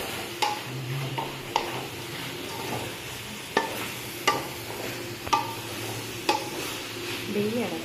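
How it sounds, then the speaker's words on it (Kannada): Chicken chilli frying in a pan makes a steady sizzle, with a spatula scraping and stirring in short, repeated strokes. It sounds close, and no one speaks. "ಫ್ರೈ ಮಾಡ್ತೀನಿ"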